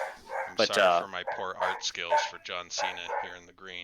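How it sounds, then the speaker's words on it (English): Dogs barking in the background behind someone talking continuously over a game of Heroes of the Storm, the yaps faint and partly masked by his speech. "I'm sorry for my dogs, if you can hear that back there."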